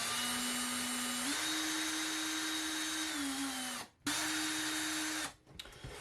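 Power driver motor whines steadily as it drives screws into a TPU mount on an FPV drone build, one long run with a rising pitch step, a brief stop, then a second shorter burst, close and loud.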